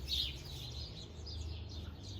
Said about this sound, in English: The birds have gone crazy.